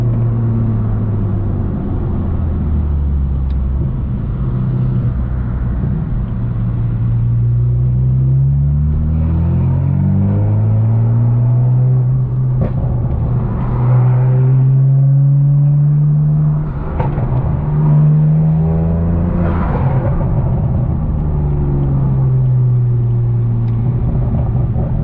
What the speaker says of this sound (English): damn, this car still does move